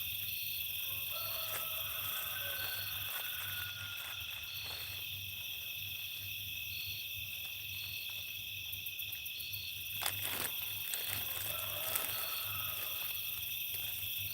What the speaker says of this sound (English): Can you hear the competing roosters?